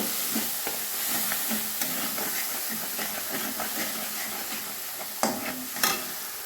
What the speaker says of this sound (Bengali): ফোড়ন ভাজা হয়ে গেছে এবার আমি মশলাটা দিয়ে দিলাম